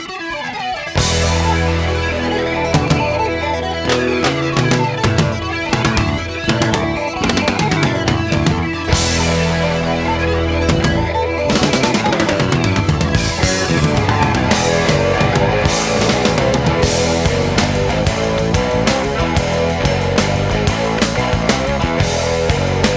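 A song from an album plays as a dense, loud rock recording with driving guitar, bass and drums, fast busy rhythmic figures and sharp accents throughout, with no talking over it.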